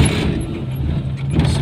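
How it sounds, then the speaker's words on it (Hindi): A car engine runs at a low, steady idle right after starting, a continuous rumble with no talk over it. "अपनी गाड़ी को स्टार्ट कर रहे हैं"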